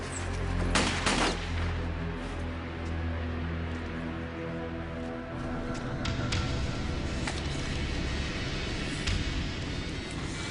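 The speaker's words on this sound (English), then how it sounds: "Someone's shooting at us." Gunfire at a warehouse, sharp shots cracking at a moderate distance over a constant low rumble, with a few scattered bursts across the stretch.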